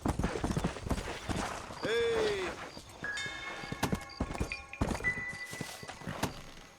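Horse hooves clip-clop in Red Dead Redemption 2, a few scattered thuds and steps mixed with a whinny-like tone and game sounds, while someone speaks over them.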